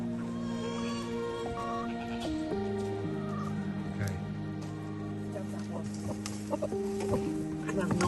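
Chickens working over a compost heap cluck in scattered, repeated bursts, moderately close, over a steady layer of sustained musical tones.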